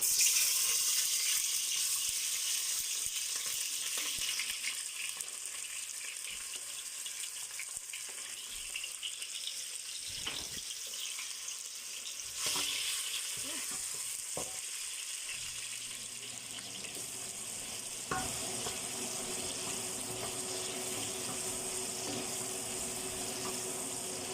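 Onions going into a heated pan for a fish dish, giving a steady, close hiss of sizzling with some watery, running texture and a few louder clanks and bumps partway through, with no voices.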